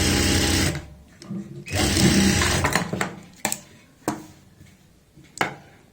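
Sewing machine stitching fabric for an elastic-waist palazzo pant, running in two long steady bursts then shorter stops and starts, loud and close, with a person talking over and between the runs.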